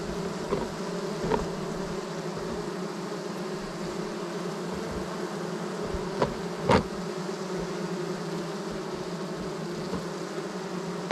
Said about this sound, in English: Really just give the bees an excuse to come on here